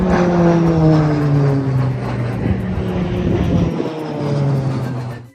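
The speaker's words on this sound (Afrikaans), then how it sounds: "Dit is 'n vliegtuig." A propeller airplane drones loud and close, its engine tone steady with slight pitch shifts, then easing briefly before swelling again near the end.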